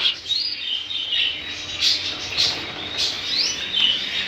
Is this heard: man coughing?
no